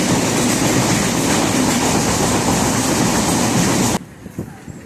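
Passenger train on the Konkan Railway rumbling along with steady rhythmic wheel clatter filling the carriage, then cutting off abruptly to a quieter interior near the end.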